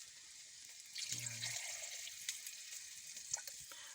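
Water pours steadily into a cooking pot of chicken tinola with a hollow splashing rush, close by, and a voice speaks briefly over it.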